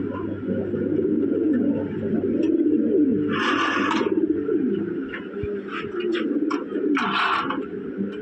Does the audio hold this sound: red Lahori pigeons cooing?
yes